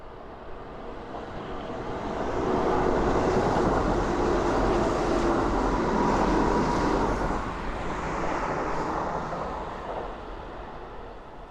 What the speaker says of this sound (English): Let's go see if we can catch a train going down over this bridge.